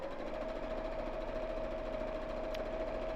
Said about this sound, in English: find my foot pedal and sew straight down